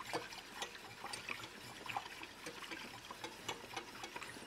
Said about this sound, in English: now you want to whisk this to make sure that there's no lumps left in it